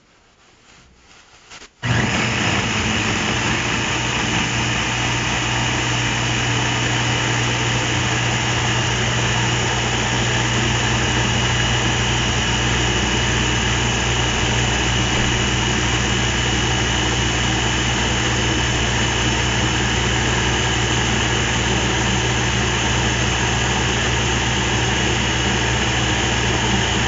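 A blender whirs on after a short quiet moment and then runs steadily and loudly, blending a smoothie of flaxseed, spinach and lemonade with a constant motor roar and no pauses.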